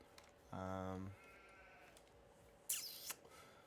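Sheep in the video game Farming Simulator 22 give a single clear bleat, then a fainter second bleat shortly after, with a brief higher sound late on, all over a low ambient background.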